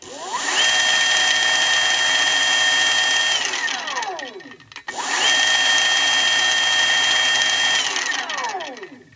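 An electric motor on a converted KLR motorcycle runs in reverse, a loud, rattly, drill-like whine that spins up, holds, then winds down, twice in a row.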